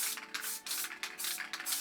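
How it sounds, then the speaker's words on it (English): Spray paint hisses from an aerosol can onto a keyed metal sheet in short, close bursts, with brief gaps between the sprays and no talk. "I'll spray this a bit lighter on here."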